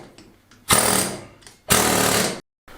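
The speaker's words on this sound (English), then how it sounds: "These I'm using an air hammer instead of the big chisel" An air hammer chisels stones out of an old cave wall during lime plastering work, heard as two loud sustained bursts of rapid hammering, each lasting about a second and separated by a short pause.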